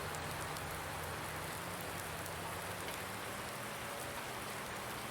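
Rain falling in Farming Simulator 19, a steady hiss of raindrops on surfaces with a faint low hum beneath, continuous and even with no talking.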